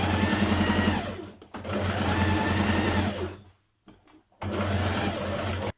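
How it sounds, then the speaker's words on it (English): A sewing machine understitching the armholes of a dress, running in loud close bursts with a steady whirring buzz, pausing briefly twice before starting up again. "Understitch around your armholes, pushing your seam towards the lining."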